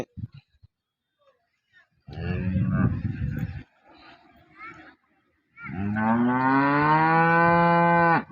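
A recently calved cow moos twice, close and loud: a rough lowing call followed after a pause by a longer, tonal moo, with a few faint noises between.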